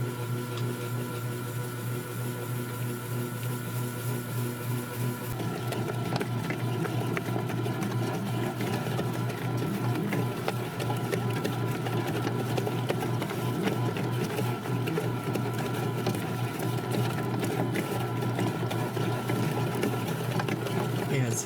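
A bread machine mixes Hawaiian roll dough with a steady motor hum and a rhythmic churning underneath, continuous and close throughout.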